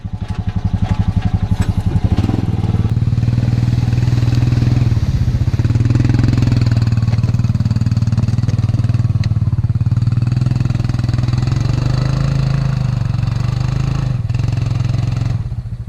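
A Honda Pioneer 500 side-by-side driving on a warm winter day, its engine droning loud and close with steady revving and slight throttle swells throughout.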